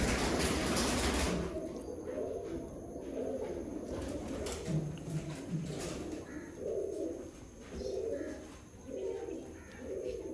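Sialkoti pigeons coo in a rhythmic series of soft, low, throaty calls, fairly close, with brief rustling beneath.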